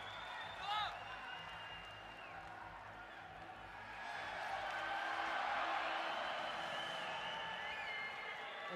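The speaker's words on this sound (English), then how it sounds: "The crowd getting all fired up as Kochar works on those rope climbs." Crowd at a CrossFit Games Europe semifinal in Berlin cheering and clapping, a steady roar of voices that swells louder midway, with an announcer talking over it.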